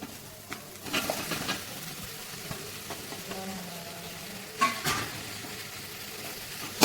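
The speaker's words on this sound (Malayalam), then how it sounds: "ഇനി നമുക്കിതിലേക്ക് നമ്മുടെ തക്കാളി അരി വെച്ചിട്ട് കൊടുക്കാം" Tomato goes into a pan of sautéed onion, ginger, garlic and chilli for a vegetable biryani, bringing a soft, steady sizzle broken by a few light clatters of stirring.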